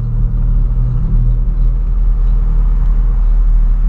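A lowered 2013 Volkswagen Gol G6 with a 1.0 engine gives a steady, loud low rumble that holds unbroken throughout, with no talking.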